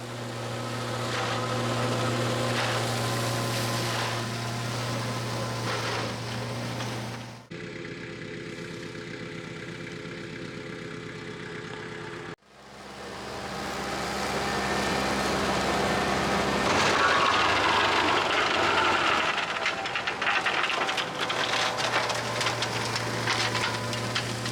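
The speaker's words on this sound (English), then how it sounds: "let's get this machine up and running, and we'll see how the flail mower copes with molehills and anthills" A flail mower runs steadily on a tractor in a field with molehills and brash, a continuous loud mechanical drone broken by two brief near-silent gaps before the machine roars back.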